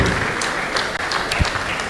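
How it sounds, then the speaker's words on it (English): A crowd at a labour gathering applauds in a dense, steady round of clapping, fairly loud and sustained throughout. "Please, another round of applause for him."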